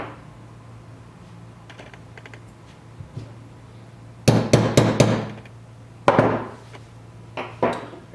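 Pin being tapped into a Glock 43 trigger assembly during a Glockkraft trigger install: a few faint clicks, then a burst of sharp hammer taps in quick succession, followed by two more short groups of taps over a low steady hum.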